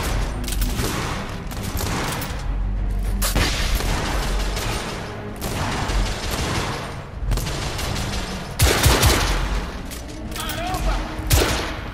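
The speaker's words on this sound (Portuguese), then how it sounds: "Como vocês viram aí, dei dois tiros de atordoamento." Stun-weapon gunfire during combat in the video game The Order: 1886, with repeated booming shots and a dense battle din filling the whole stretch, one heavier blast standing out late on.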